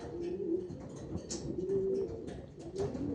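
Pigeons kept for sale coo in a series of soft, low, rolling calls at moderate distance, repeating a few times over faint background noise.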